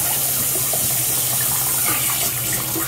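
Steady, close tap water runs without a break while something is washed, a constant broadband rush with no talk over it.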